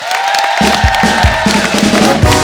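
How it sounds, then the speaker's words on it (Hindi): Loud, dense applause and cheering from the studio audience of The Kapil Sharma Show, a comedy talk show, rising into a continuous roar over background music. "जोरदार तालियां हो जाए एक बार।"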